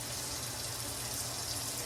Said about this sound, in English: you want to add a couple inches of water in